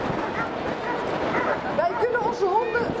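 Police dogs at a dog demonstration during the 2018 World Port Days yip, whine and give short barks, fairly faint and mixed with someone talking nearby.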